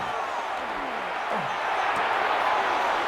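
Steady stadium crowd roar from a Madden NFL 26 Titans at Jaguars football game, a dense continuous wash of fans making noise on a third down that swells slightly louder toward the end.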